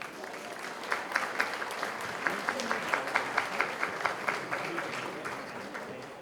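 Warm applause from a dinner ceremony audience, a steady wash of many hands clapping with a few sharper claps standing out, holding at an even level for several seconds in a large room.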